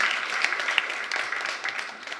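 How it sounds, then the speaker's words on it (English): An audience in a school hall claps for a children's presentation, a steady dense patter of many hands held at an even level throughout. "Give them a big hands of applause."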